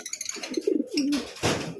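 Pigeons coo in a few soft, rolling phrases close by, with brief rustling in between and no talking.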